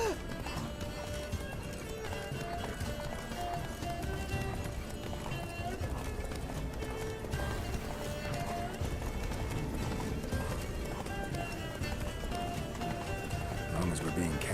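Roach the horse gallops in the Witcher 3 video game, a steady rhythmic clip-clop of hooves under continuous talk and game ambience.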